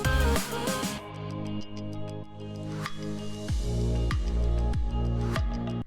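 Top 40 pop song's second verse with the drums dropped from the first measure: melodic instruments and vocal-like tones open sparsely, then a steady thumping beat with regular strikes enters and continues loud.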